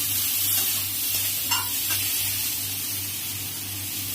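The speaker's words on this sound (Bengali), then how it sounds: "নেড়ে একটু ভালোভাবে একটু কষিয়ে নিই।" Spices with salt, turmeric and ground cumin paste frying and being stirred in a pan for a prawn and raw banana curry, a steady close sizzle with a few soft scraping strokes of the spoon, no talk.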